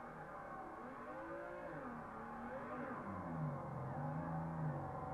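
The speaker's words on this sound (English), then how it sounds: "Is up to change direction and full throttle to start drifting." A drifting car at full throttle gives a steady, rising engine drone with wavering pitch as it slides and changes direction, heard at a moderate distance with no talk.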